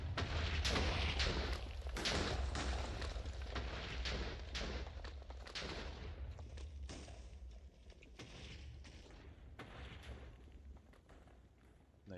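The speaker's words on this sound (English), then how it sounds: "Nice, that was a pretty good explosion. We got a full chain going." Chain of TNT explosions in a blocky sandbox video game, a rapid run of heavy booms and crackling blasts fading gradually over several seconds, no voices.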